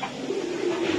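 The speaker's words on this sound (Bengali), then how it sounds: "খুবই সুন্দর কবুতর" A pigeon gives a single soft, low coo up close, short and muffled, with no voices.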